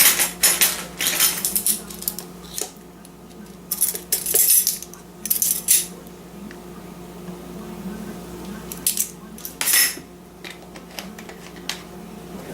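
A utensil beats vanilla into apple cake batter in a mixing bowl, with repeated clinking and scraping bursts against the bowl, close and irregular.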